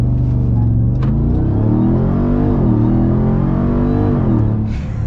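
A 2021 Ram TRX pickup truck's engine revs hard and close, a loud deep rumbling drone that climbs and dips in pitch through several throttle swells, alone without voices.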